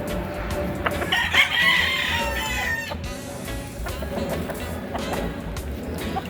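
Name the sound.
fighting roosters crowing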